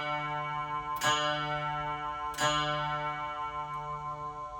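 An electric guitar runs through a Donner Harmonic Square pitch shifter set to a seventh interval, giving sustained, harmonically rich tones with two sharp picked attacks about a second and a half apart, ringing steadily with a slight wavering.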